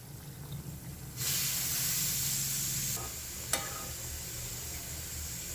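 Coconut milk, about three-quarters of a cup, poured into a simmering brinjal curry in a pan: a steady close sizzle and hiss rises sharply as the liquid hits, then settles into a softer bubbling simmer with a brief clink.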